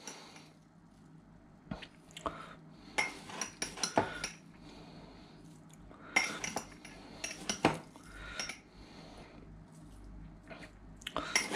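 Onions being spooned onto Danish hot dogs beside a New York-style hot dog steamer, heard as irregular clinks of cutlery and soft squishy scrapes against dishes, close up with a low steady hum underneath.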